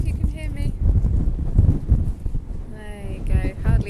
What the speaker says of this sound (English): it's quite windy today, I don't know if you can hear me.